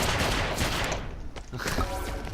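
Rapid gunfire in a video game, a dense stream of loud shots from several weapons that dips briefly midway and then resumes, with no talk over it.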